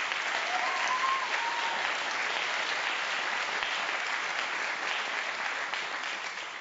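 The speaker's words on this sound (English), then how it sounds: "Let's hear it for Stephen Dunifer and everybody at Berkeley Free Radio" Audience applause at a talk on censorship, a sustained, even roar of clapping from a large crowd, no speech heard, slowly fading at the end.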